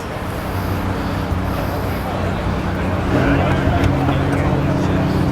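Supercars including Ferrari, AMG and Corvette C8 rolling past at a beachside car meet, a continuous engine rumble swelling louder as they near, with people chatting over it.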